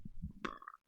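A man lets out a short, low burp right up close, barely half a second long, followed by a brief pause and faint low noise.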